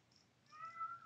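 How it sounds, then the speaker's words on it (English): A cat gives a single short, faint meow indoors, rising and falling briefly against quiet room tone, with no talking over it. "That's the cat."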